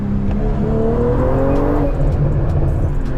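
A BMW M340i xDrive engine pulls hard in second gear, a loud close growl with rising pitch as the revs climb, steady and continuous with no talking.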